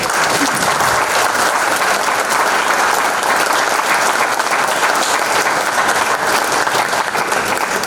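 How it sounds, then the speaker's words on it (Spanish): A seated audience applauds the speakers at a panel talk, an even, sustained wash of clapping lasting about eight seconds with no speech over it. "Yo creo que se merece un aplauso."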